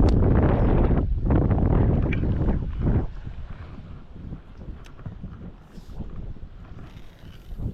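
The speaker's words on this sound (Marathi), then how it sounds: "वारा खूप आहे मित्रांनो।" Strong wind at a coastal fishing spot in Konkan, India, buffets the microphone with loud roaring gusts for a few seconds, then eases to a lighter, steady rumble.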